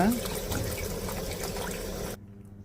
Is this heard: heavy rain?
no